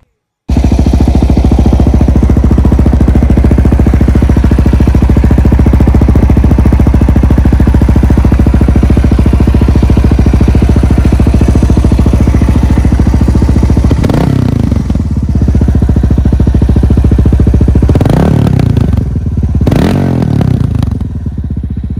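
A Suzuki DR650 motorcycle with a DG RST slip-on exhaust idles close and loud with a steady thumping rumble, then gives a few sharp blips of the throttle toward the end.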